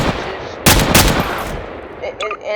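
A machine gun with an AK-47 muzzle in Garry's Mod fires a short, loud burst of rapid shots at close range, followed by a brief echoing tail and a few mechanical clicks.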